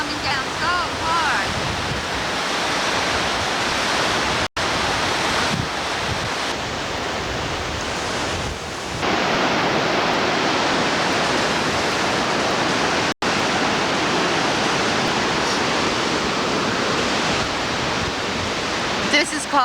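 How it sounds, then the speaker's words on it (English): Heavy waterfall at the Grand Canyon of St. Anne in Quebec pours hard and close, a loud steady roar of crashing water and spray with wind buffeting the microphone throughout. "Some of the water splashing in our face. It's coming down so hard."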